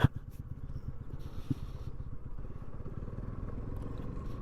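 A motorcycle rolls steadily downhill on a slope during a long solo ride, its engine running at a low, even throb with some clattering, heard close and fairly quiet throughout.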